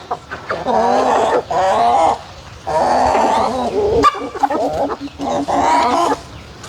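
A prized rare-breed rooster clucking and calling up close in a loud, repeated series of throaty bursts separated by short pauses.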